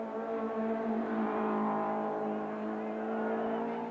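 Touring cars racing at the Kyalami circuit in South Africa in 1994, engines droning loud and steady with layered tones that swell and ease as the cars run close together through a sweeping corner.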